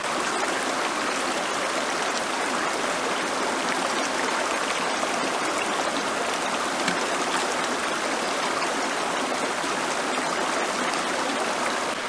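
Water streams steadily from the output tube of a battery-powered water filter into a water bottle, a continuous close, bright trickling flow that holds without pause and with no talking.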